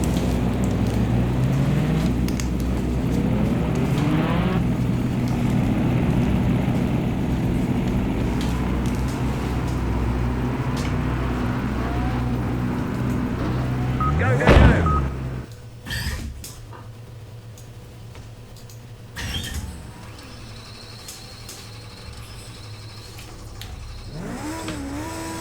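Loud, constant racing-car engine drone from the Project Cars 2 video game fills the first fifteen seconds, then cuts to quieter intermittent thumps and a few brief bursts.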